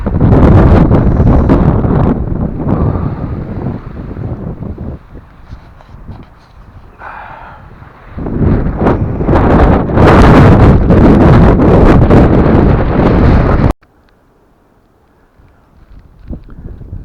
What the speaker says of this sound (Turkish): kum fırtınasına yakalandık.